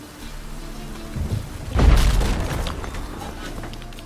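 A deep rolling thunder boom swells up through steady rain in The Witcher 3, the rumble peaking loud and close before fading back into the continuous patter of rainfall.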